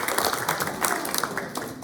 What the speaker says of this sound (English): if we can have a round of applause for Dustin making it 20 years here.